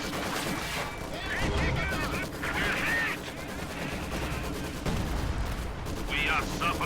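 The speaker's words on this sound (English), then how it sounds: "ISU firing." Heavy artillery blasts from an ISU self-propelled gun in a World War II strategy game, booming repeatedly amid ongoing battle noise with voices talking over the fighting.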